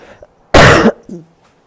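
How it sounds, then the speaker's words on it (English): A single harsh, forceful cough bursts out close to the microphone, followed by a brief soft throaty sound, otherwise quiet. "I need to cough."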